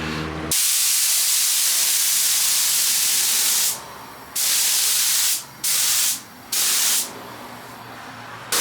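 Spray gun laying primer onto a car bodykit in a paint prep setting, loud sharp hissing bursts of varying length separated by short pauses, close to the source with no speech.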